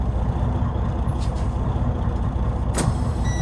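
A Freightliner Cascadia truck, just jump started after its batteries went completely dead, idles with a steady low diesel rumble close by, broken by a couple of brief hissing air bursts.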